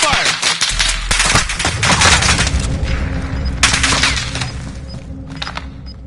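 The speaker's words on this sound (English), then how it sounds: "I'm being shot at." Gunfire in the battle royale game Warzone, with sharp automatic bursts and scattered single shots at close to middle distance, going on throughout with brief pauses, and a player's voice speaking over it.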